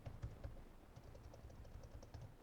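Quiet, uneven keystrokes on a computer keyboard, a run of soft clicks with small bursts and pauses, typed alone without talk.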